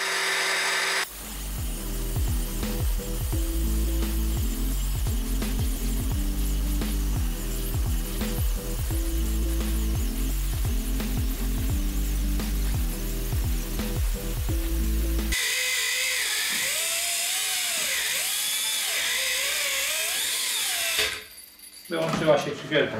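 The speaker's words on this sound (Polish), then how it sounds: "drugie szlifierką bezprzewodową 18 V" An 18 V cordless angle grinder with a new 0.8 mm disc grinds into a steel lock shackle, a loud, sustained, rhythmically pulsing cut that gives way to a higher, wavering whine near the end.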